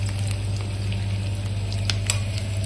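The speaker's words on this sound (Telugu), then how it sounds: "ఉప్పు, పసుపు, ఆయిల్ మంచిగా ఫ్రై అవుతాయి." Salt, turmeric and oil frying in a pan for egg pulao give a steady, close sizzle with a soft crackle, heard alone with no talk.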